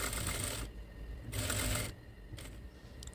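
A sewing machine stitches along ric-rac trim in quick, close mechanical bursts, three runs of rapid clatter separated by short pauses.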